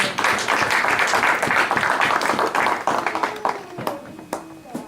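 A church congregation claps and applauds after a Bible reading at a Sunday service, a dense burst of hand claps that thins out into scattered claps over about five seconds.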